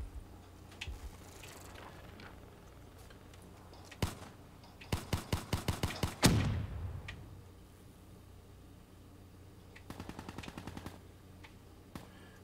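Automatic gunfire from the video game Black Ops 3 comes in rapid bursts, a long rattling volley followed by a loud blast that decays, then a shorter burst later on, set over a steady game ambience.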